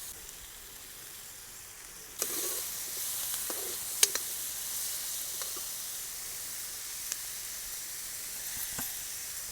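Onion sautéing in oil with garlic, mustard seeds and cumin, a soft steady sizzle that swells in after a quieter start, with a few faint clicks of a spoon.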